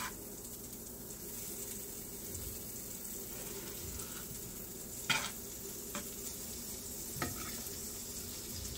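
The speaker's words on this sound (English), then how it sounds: "I have put the butter in here, and I'm just going to let it spin till it melts" Butter melts and sizzles softly in a pan while cooking a salmon omelette, a quiet steady hiss broken by a few sharp clinks.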